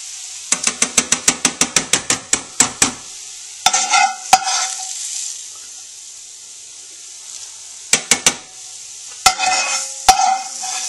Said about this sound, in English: I've got all my roux into my stock, and I'm going to mix it here, whisk it in.